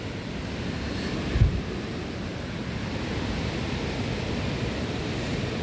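A river flows below the Olympic Hot Springs in Olympic National Park, a steady, even rush of water from a distance with one brief bump and no talking.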